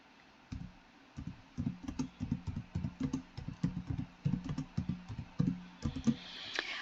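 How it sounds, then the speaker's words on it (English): Rapid clicking of keys on a computer keyboard as a question is typed, a close, steady run of quick taps alone with no voices. "Once I've typed my question into the Zoom window, I simply press enter and it appears in the chat"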